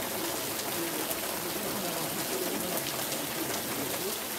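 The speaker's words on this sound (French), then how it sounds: "une forte pluie s'abat sur l'ensemble de la commune de Maluku" Heavy rain pours steadily across the commune of Maluku on the outskirts of Kinshasa, a dense, constant hiss of water on surfaces with no letup, close and loud, and no voices.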